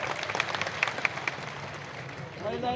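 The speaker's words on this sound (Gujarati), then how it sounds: "તાળીઓ વધારે પાડી બેન" A crowd at a community meeting claps in a brief patter of scattered applause, partly under a voice talking over it.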